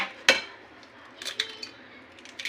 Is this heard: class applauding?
no